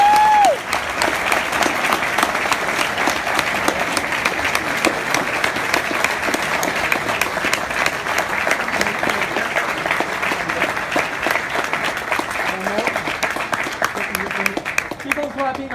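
Sustained audience applause after a speech, steady and dense throughout with a few cheers rising near the end.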